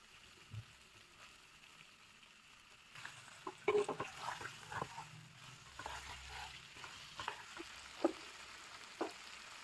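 Marinated fish pieces hit hot masala in a pan, starting with quiet stirring and then a louder spell of sizzling and frying, with clattering stirs and a few sharp knocks against the pan.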